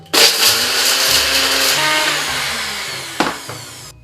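A kitchen blender blitzes dried chipotles with a loud, whirring grind that starts abruptly, holds for about three seconds, briefly surges, then cuts off.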